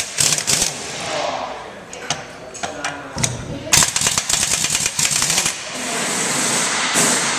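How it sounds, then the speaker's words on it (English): Large 1-inch drive impact wrench with a 33mm socket removing lug nuts from a hub-piloted truck disc wheel, giving loud rapid hammering bursts separated by pauses, close by with no talk. "We are using a large 1-inch drive impact with a 33mm socket."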